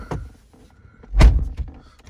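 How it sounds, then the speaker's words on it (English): A car door, on a Dodge or Chrysler vehicle, opens with a short latch click and then a louder hollow thunk, close by and with no talking. "Open the door."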